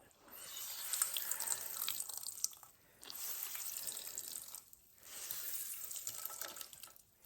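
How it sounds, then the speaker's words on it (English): Excess water is squeezed out of grated potatoes, giving faint trickling, dripping bursts in three waves with short pauses between. "I'm going to squeeze the excess water. Now you can see there's a lot of liquid in here"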